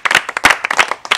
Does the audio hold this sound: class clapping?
yes